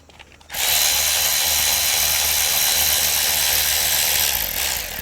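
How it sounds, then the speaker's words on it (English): A power ratchet whirs loudly and continuously at close range, backing out the 8mm oil pan bolts on a Ford F150 during a transmission fluid change, starting abruptly after a brief quiet moment. "So we're gonna remove all the bolts around the oil pan."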